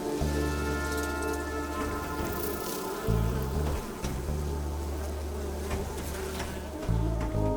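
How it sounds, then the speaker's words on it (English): Insects buzz steadily in the video game The Berlin Apartment, a close, continuous droning hum that wavers in pitch, with soft tapping beneath it. "maintenance errors caused some of the insects to escape from their tanks"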